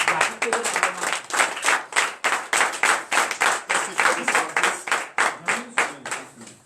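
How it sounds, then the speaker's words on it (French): Congregation at a morning prayer service in Benin clapping in unison, a strong regular beat of sharp hand claps close by, with voices and acclaiming sung over the rhythm. "sur vos pieds et donnez de vive acclamation à notre Seigneur"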